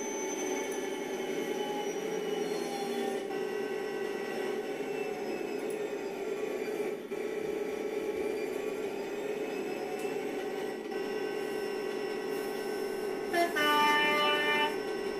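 An Inter City 125 train rumbles past, a loud, steady drone of engine and wheels with tonal whine throughout and a brief squeal near the end, without talk.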